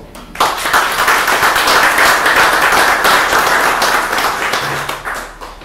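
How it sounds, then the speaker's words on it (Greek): Sustained applause from a crowd, dense clapping that starts abruptly and holds steady for several seconds before tapering slightly. "παρακαλώ εδώ και το χειροκρότημα όλων"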